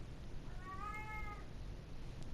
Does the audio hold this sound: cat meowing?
yes